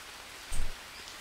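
Rain falls in the jungle in Green Hell as a soft, even hiss, with a brief louder rustle midway and no talking.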